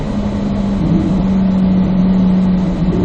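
A car engine drones on a race track, holding a steady mid-pitched tone that rises slightly as it accelerates, close and loud with no talk over it.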